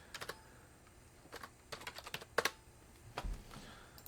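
Short, irregular clusters of computer keyboard keystrokes tap close by, with brief pauses between bursts, during a Clash Royale session.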